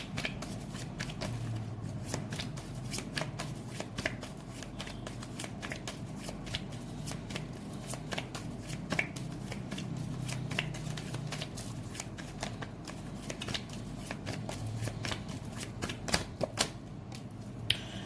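Tarot cards are shuffled by hand before one is drawn, a long run of soft, rapid riffling and flicking that carries on steadily and quietly with no talk.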